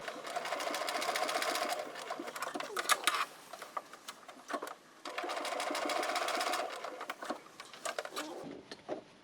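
A sewing machine stitches a backpack in two bursts of rapid, even clatter, separated by a short pause with a few soft handling sounds, close and moderately quiet.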